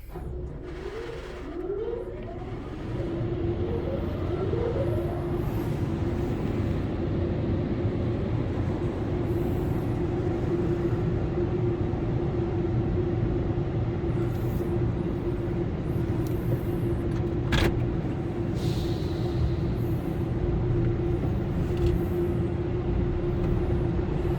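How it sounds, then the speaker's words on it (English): A Ryko Soft Gloss soft-touch car wash at a Chevron gas station runs with a continuous heavy rumble and steady hum, broken by a few brief mechanical clicks and whooshes partway through. "Star Finish Soft Touch Car Wash."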